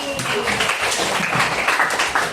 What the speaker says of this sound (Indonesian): beri tepuk tangan buat Fahri